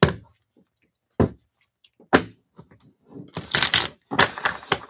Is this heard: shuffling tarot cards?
yes